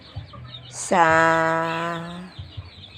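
A native chicken hen gives a drawn-out, nasal squawking call lasting about a second, with brief faint clucks before and after, close by.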